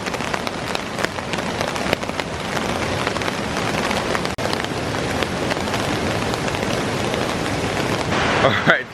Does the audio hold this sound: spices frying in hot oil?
no